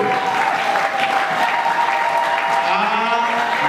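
A church congregation claps and cheers together, a steady wash of applause with voices mixed in, continuous and fairly loud throughout.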